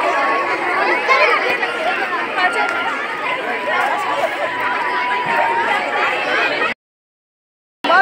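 A dense crowd at a school fete chatters steadily, a broad babble of many voices close around, before cutting to brief silence near the end.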